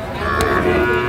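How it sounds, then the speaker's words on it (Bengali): A young Sahiwal bull calf lets out a single short, close moo lasting about a second, with crowd noise behind it at a cattle market. "সাইবল ষাঁড় বাচ্চা।"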